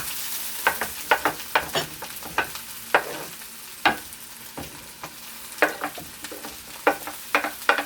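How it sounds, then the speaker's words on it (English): Tomatoes, peppers, onion and green onion sauté in a pan for a Jamaican ackee and saltfish dish, a soft sizzle broken by frequent sharp spatula clacks and scrapes, close up with no voices. "So this is just sauteing down right now guys. Tomatoes, peppers, onion, green onion"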